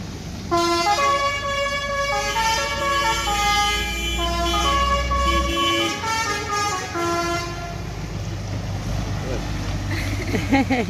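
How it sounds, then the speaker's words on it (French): Car horns honk in a long, overlapping chorus of sustained blasts at different pitches, loud and continuous over traffic noise. "C'est un ballet de klaxon."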